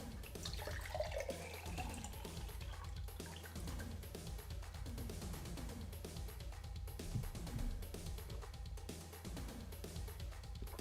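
Tap water runs steadily into a glass at close range, a continuous splashing flow with small drips and clinks, alone with no talk.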